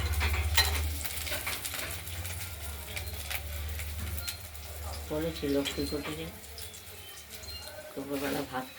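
Oil sizzles and crackles steadily as gram-flour-battered bakful (agati) flowers fry in a wok, with stirring scrapes and faint bird coos in the background.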